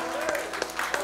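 A church congregation claps during a Sunday morning worship service, a dense wash of hand claps lasting about a second, with faint voices and a sustained tone mixed in.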